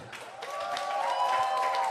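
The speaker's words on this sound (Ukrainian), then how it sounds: "Ваші аплодисменти." A live audience applauds a dancer at a Ukrainian dance contest with steady, moderately loud clapping that swells slightly and carries on throughout, with no talk over it.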